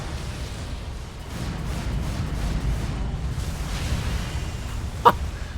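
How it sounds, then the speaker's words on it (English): A boss's explosive attack in the Elden Ring: Shadow of the Erdtree video game, heard as a dense, sustained rumble of booming blasts with a sharp pop near the end, and no talk over it. "It's just that explosion, that's it?"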